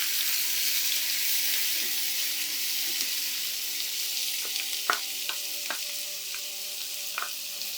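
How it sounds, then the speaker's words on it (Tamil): Chopped onions deep fry in hot oil for a soya chunks fry, a steady close sizzle throughout with occasional sharp pops and utensil clinks. "ஆனியனை வந்து எடுத்து போட்டுருங்க போட்டு டீப் ஃப்ரை ஒரு ரெட்டிஷ் ப்ரௌன் கலர் வர வரைக்கும் நல்லா ஃப்ரை பண்ணிக்கோங்க"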